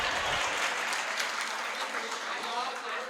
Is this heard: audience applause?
yes